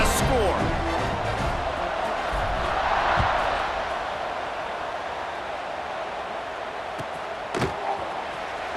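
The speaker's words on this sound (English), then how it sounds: "this crowd is buzzing after that last score" A stadium crowd in College Football 26 keeps up a broad, steady buzz after a score. The roar swells slightly in the middle and then settles, with a faint thud near the end.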